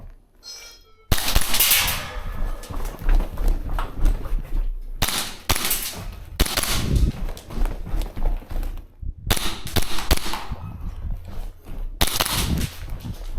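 A Krytac Maxim 9 airsoft gun fires in several sharp, snappy strings of rapid shots, separated by short quiet pauses, loud and close to the listener.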